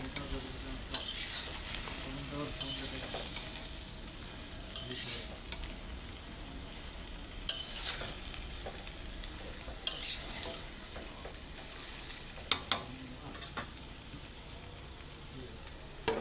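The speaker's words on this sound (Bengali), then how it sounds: "কিছুক্ষণ পর ঢাকনা খুলে আবারও নেড়ে দিচ্ছি" A winter vegetable bhaji fries quietly in a pan, a soft steady sizzle broken by periodic scraping stirs of a spatula spaced a few seconds apart. No voices.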